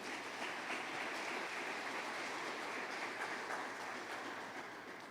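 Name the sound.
congregation applauding in church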